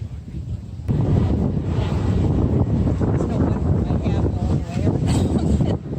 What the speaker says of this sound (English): it's just a windy son of a gun today